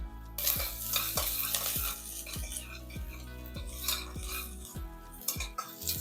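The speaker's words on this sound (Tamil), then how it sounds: "பாருங்கள் இந்த வெங்காயம் வதங்கும் போது இதில் கொஞ்சமாக புதினா இலை சேர்த்துக்கலாம்" Onions sauté in a pan with a few mint leaves added for mushroom biryani. A spoon scrapes and stirs in a steady rhythm over a constant sizzle, with light clinks against the pan. No one speaks.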